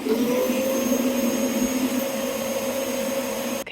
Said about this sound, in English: I'm going to crack on with this carpet cleaning, attaching this handheld one